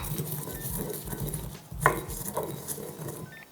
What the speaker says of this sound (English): So just going to add that to the mortar and pestle. Just grind it into a powder.